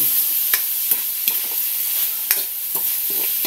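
Corned beef fried rice being stirred in a hot pan, a steady bright sizzle with repeated scraping spatula strokes roughly every half second, close and alone without talk.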